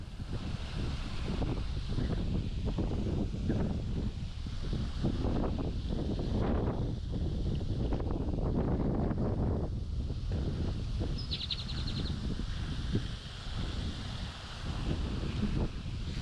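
Strong wind buffets the microphone outdoors beside a fishing pond, a steady low rumbling roar with gusty swells throughout and no talking.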